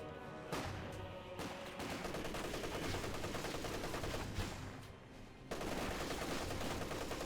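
Machine gun fire in the strategy game Company of Heroes 2, a steady, continuous rattle of rapid rounds at moderate volume, briefly pausing mid-way before resuming, with no voices heard.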